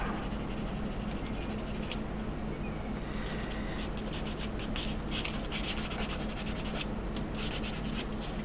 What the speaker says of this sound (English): I need to just give it a bit of a sand on some bits here